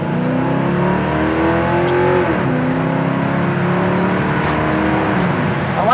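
A 1968 El Camino's V8 revs up under hard acceleration, its tone climbing steadily, dipping at a gear shift around the middle, then climbing again, loud and close throughout.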